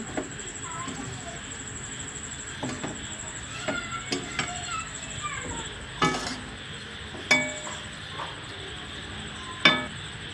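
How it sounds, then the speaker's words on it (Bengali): Vermicelli (semai) frying in a pan as it is stirred and turned, a steady soft sizzle under scattered scraping clicks and a few sharper utensil knocks against the pan, close and moderately quiet. "উল্টে পাল্টে সেমাইগুলোকে ভেজে নেব।"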